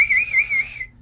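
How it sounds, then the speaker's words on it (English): The Wicked Witch's silver whistle gives a single wavering high-pitched blast, clear and sustained for under a second before fading out. "She blew her silver whistle again."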